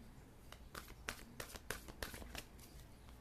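Tarot cards being shuffled and drawn by hand, a quick series of soft riffling and flicking bursts, fairly quiet and close, with no talk over them.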